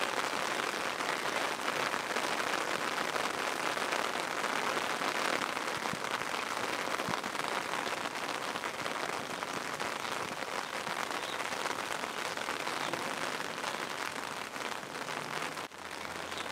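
Steady rain falls on a rainy day in a garden where lettuce grows, a dense even hiss of drops on surfaces that continues without a break, with no voices heard.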